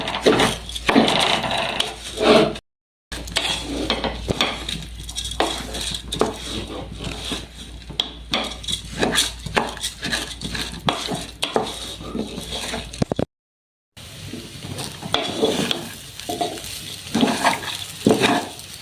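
Raw rice fries in ghee in a pot as it is stirred, giving repeated close metallic scraping and clattering strokes over a soft sizzle, with two brief silent gaps.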